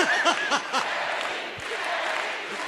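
A live podcast audience cheers and applauds, a burst of whooping and clapping that fades into a steady crowd murmur.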